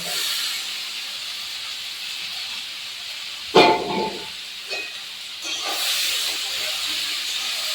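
Drained chickpeas and boiled potato pieces hitting a hot wok of cooked-down spice masala give off a steady broadband hiss, with a sharper, louder burst partway through as the food lands, then settling back to a continuous sizzle.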